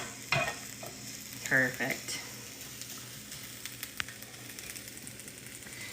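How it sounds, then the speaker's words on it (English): Blueberry muffin and Italian grilled cheese ingredients sizzle in a pan with a few clattering tosses and stirs, and a voice speaks briefly over the frying. "I'm hearing my things over here sizzle a little bit, so I'm just gonna give them a quick toss."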